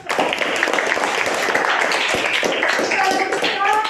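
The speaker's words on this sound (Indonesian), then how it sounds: "Berikan tepuk tangan dulu." Classroom students clapping for a group's presentation, a dense, steady patter of many hands lasting throughout, with voices talking and calling out over it.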